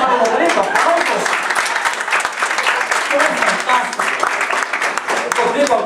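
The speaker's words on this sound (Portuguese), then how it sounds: "Aplausos para o Rodrigo, aplausos." An audience applauds steadily for an older man standing up among them, the dense clapping loud and continuous with some voices mixed in.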